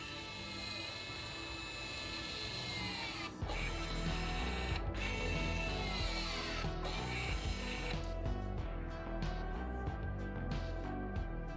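The electric parking brake caliper on a 2018 Ford S-Max motors on, a quiet whirring, ratcheting drive with shifting pitch, broken by a few brief clicks and ending in faster gear chatter, heard close without speech.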